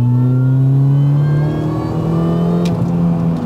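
A supercharged 1.6-litre Mini engine revs loudly and close by. Its droning note eases down in pitch across the few seconds, and no one speaks over it.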